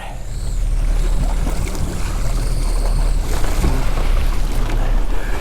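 Rough open sea churns around a fishing boat in deep water, with steady loud wash and surge of waves mixed with heavy wind buffeting the microphone.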